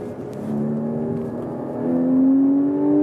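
A car accelerating on a race track at Vancouver Island Motorsport Circuit, its engine note rising steadily in pitch as it builds speed, heard from inside the car, loud and continuous with no talk.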